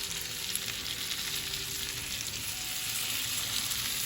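Prawns fry in salted butter for garlic prawns, giving a steady, dense sizzle that stays close and fairly loud throughout, with no talking.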